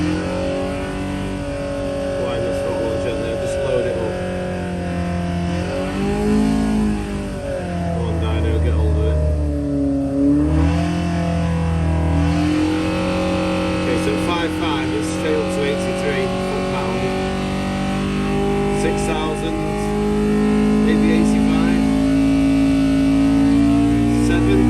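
Benoy engine running steadily on a dynamometer at around 3,500 rpm, a loud sustained hum with shifting harmonics as the revs dip and climb, with someone talking over it throughout.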